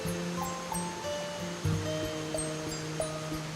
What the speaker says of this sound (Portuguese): Este córrego deságua no Rio da Barra